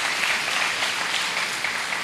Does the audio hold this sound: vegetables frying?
no